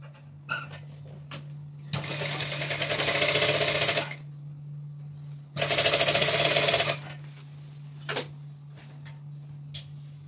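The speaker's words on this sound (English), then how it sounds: "So I'm going to start sewing it." Sewing machine stitching a layer of crinoline onto tulle, running in two sustained bursts of rapid mechanical ticking separated by short pauses, close and fairly loud over a steady low hum.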